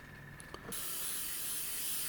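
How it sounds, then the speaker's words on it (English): A faint click, then a sustained steady hiss of an aerosol can spraying silver paint on Airfix Sabre model parts, close up and continuous, with no voices. "it tells you to spray them up silver, which I am doing as you can see"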